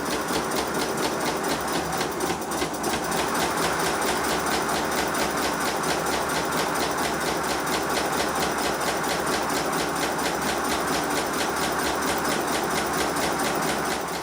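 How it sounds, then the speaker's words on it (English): A 5 inch gauge Modelworks pannier tank model locomotive runs on compressed air at about 50 psi, its boiler and tanks empty, giving a steady, hard, rapid chuffing beat that carries on loud and unbroken throughout. "The engine runs, but it doesn't sound too good. The sound is a lot harder."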